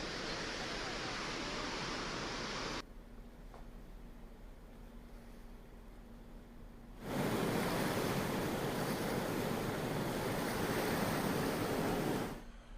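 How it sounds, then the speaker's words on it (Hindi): Water gushing from the opened radial gates of the Maithon dam on the Damodar river during flooding: a continuous heavy roar of falling water. It drops to a quieter rush for a few seconds, then surges back loud. "डैम से पानी गिरने का अद्भुत नजारा देखने को मिल रहा है"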